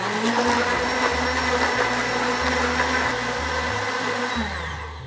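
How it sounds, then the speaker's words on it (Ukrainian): A blender whirs loud and steady as it purees bananas with neutral-coloured juice into a smoothie, its motor holding a continuous drone before easing off at the end. "Збиваємо це все разом."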